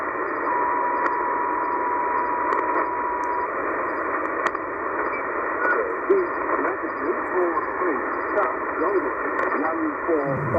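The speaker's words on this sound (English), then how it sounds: "again, VMW or VMC out of Australia with weather" Shortwave radio tuned to 8113 kHz, picking up a weather broadcast from VMW or VMC in Australia. A voice in the band-limited signal sits under steady hiss and static, with faint chirping interference.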